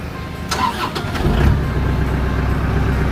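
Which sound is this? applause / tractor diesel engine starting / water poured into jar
tractor diesel engine starting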